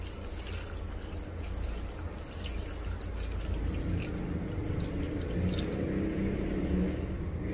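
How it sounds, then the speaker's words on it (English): Water pours steadily into a pot of sour spinach leaves in a home kitchen, a continuous splashing, bubbling flow with no talk over it. "Add in water to cover till the leaves are fully covered or submerged."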